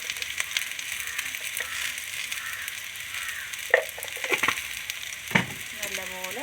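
Coriander and turmeric powders stirred into a hot pan for fish curry, a steady soft sizzle with occasional scraping and clinking of a spoon against the pan, close, with no talking.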